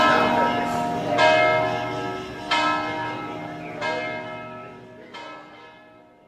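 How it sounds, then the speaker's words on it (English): A large church bell tolls five times at a slow, even pace, about every 1.3 seconds. Each loud strike rings on, and its resonant hum overlaps the next stroke, with no voices. "you will hear this bell again, and it is a beauty, isn't it?"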